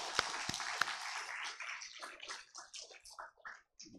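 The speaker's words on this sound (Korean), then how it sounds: "옆에 계시는 분들을 축복하는 박수 한번 보내드리도록" Church congregation claps to bless one another on Children's Sunday, starting with a few sharp claps and thinning into scattered, softer clapping that trails off.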